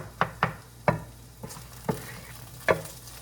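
Sweet potato gnocchi being stirred and smashed in a pan gives six sharp knocks and scrapes at an irregular pace, close by, over a faint low sizzle.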